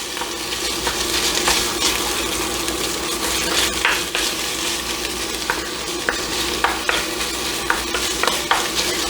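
Meat for chili browning in a hot pan, a dense continuous sizzle with occasional stirring clicks and scrapes, close and steady throughout.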